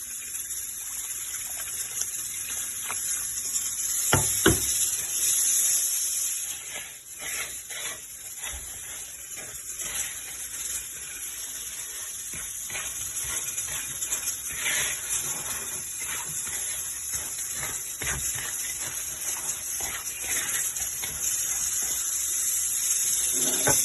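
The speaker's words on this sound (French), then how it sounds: "Après, je vais rajouter de l'eau." Water running from a tap into a cooking pot while making chicken couscous; a steady, fairly quiet stream gushing continuously, with a brief louder splash early on and faint clinks, no talking.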